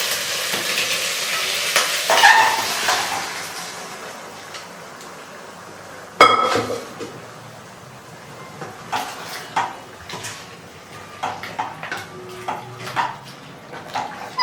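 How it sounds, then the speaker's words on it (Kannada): Boiled chillre mutton drops into a hot pan of frying masala for a black pepper dry dish, then sizzles and crackles as a spoon stirs and scrapes it, with clinks against the pan and uneven bursts of frying. "ಇದಕ್ಕೆ ಇವಾಗ ನಾವು ಬೇಯಿಸಿದಂಥ ಚಿಲ್ರೆ ಮಟನ್ನ ಇದರೊಳಗಡೆ ಹಾಕೊಳ್ಳೋಣ."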